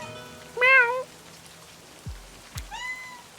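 A cat meows twice in the Livber video game during rain, each a clear rising-and-falling call separated by a couple of seconds, over a faint steady patter with a few low thumps in between.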